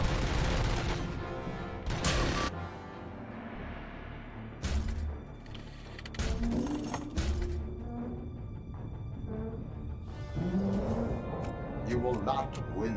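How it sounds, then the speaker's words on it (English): Rapid gunfire bursts in the RoboCop: Rogue City shooter game, cracking in repeated volleys amid sharp impacts and game effects, with a voice talking over the action. "So they're shooting at purple things, they're shooting at green things."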